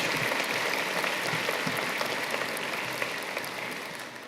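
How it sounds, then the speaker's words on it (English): An audience at a mathematics faculty graduation ceremony claps in a thick, continuous wash of applause that holds steady and then eases slightly toward the end, with no voices over it. "Let's give another round of applause to Keely."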